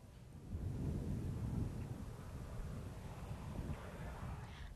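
A Super Hornet fighter jet at an outdoor airshow gives a broad, loud rumbling roar that swells, peaks, then holds steady as a sustained wash of jet noise.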